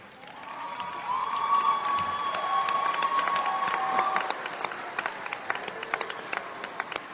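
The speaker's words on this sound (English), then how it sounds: "Graduates, will you stand and thank your families with a round of applause?" An audience at a 2014 university commencement breaks into sustained applause. A dense wash of clapping with some cheering swells, holds, then thins to scattered claps.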